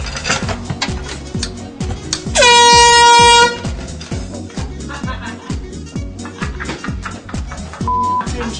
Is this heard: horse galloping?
no